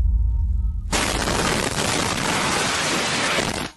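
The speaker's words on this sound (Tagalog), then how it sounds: "Maririnig ang isang malakas na pagsabog." A sudden loud blast erupts after a quiet moment, followed by a dense roaring rumble and crackle of falling debris that fills the rest.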